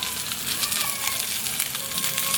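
Fish frying in a pan as a step in cooking sinigang, giving a steady, broadband sizzle that stays even and close throughout with no pauses.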